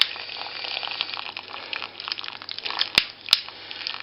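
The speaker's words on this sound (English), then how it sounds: "Good idea just to squeeze out the bags, just to get all the hoppy goodness out." Hop bags squeezed with salad tongs during a homebrew hop tea, giving a steady wet gushing and crinkling sound close up, with two sharp clicks near the end.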